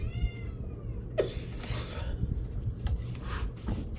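A cat meows loudly in a drawn-out cry, with a few shorter calls following, over a low steady background rumble.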